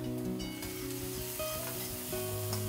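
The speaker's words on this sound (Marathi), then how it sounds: "आता हा पण कांदा हलकासा भाजून घेऊया" Chopped onion sizzles and fries steadily in a pan as it is lightly roasted, a constant close crackle with the faint scrape of stirring and no voices.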